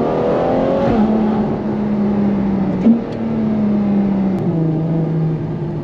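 A Ferrari F12 TDF V12 in race mode accelerates hard, its loud engine note rising steadily, then breaking with an abrupt gear change before it climbs again, heard from inside the cabin with no voices.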